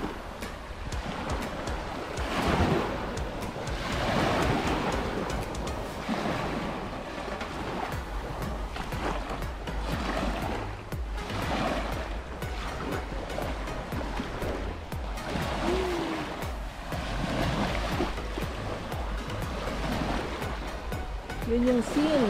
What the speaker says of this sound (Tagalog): Ang sarap pakinggan ng alon.